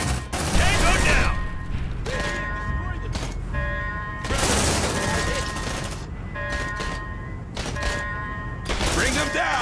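Gunfire in the Aliens: Dark Descent video game: repeated loud bursts of automatic rifle fire in short, spaced volleys, with soldiers' voices calling out between and over the shooting.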